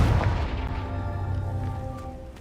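Casting Confringo in Hogwarts Legacy sets off a short, heavy burst at the start, then a rumbling, fading roar of the blast over a low background drone.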